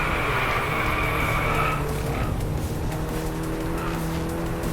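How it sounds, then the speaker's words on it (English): Audi A1 Quattro drifting in a racing video game: tires squeal loudly for about two seconds, then the engine note carries on with shorter skids, close and without talk. "Come ride along with me in the Audi A1 Quattro. Drift it!"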